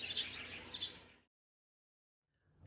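Small birds chirp in a couple of quick bright bursts over the first second, fairly faint, followed by silence.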